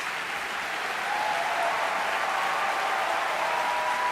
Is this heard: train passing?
no